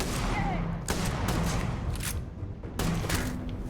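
Enemy gunfire in the space game Starfield cracks out in heavy bursts, with sharp shots at intervals over a dense, rumbling battle din that stays loud throughout.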